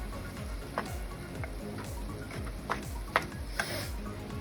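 Thai basil pork with soy, fish sauce and sugar frying quietly in a pan, a soft continuous sizzle broken by scattered utensil clicks and scrapes as it is stirred, no talk.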